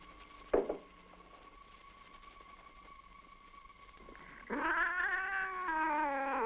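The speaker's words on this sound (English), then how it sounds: "She's a cat." A cat meows and caterwauls, a sharp cry near the start and then a long drawn-out wailing yowl toward the end over a faint steady hum, with no speech.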